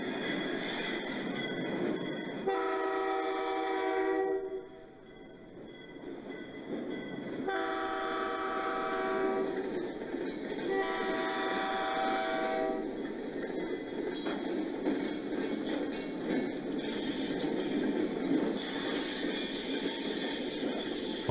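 A coal unit train in a railroad simulation game, led by Penn Central and Baltimore and Ohio locomotives, sounds repeated horn blasts over a continuous rolling rumble of wheels and wagons.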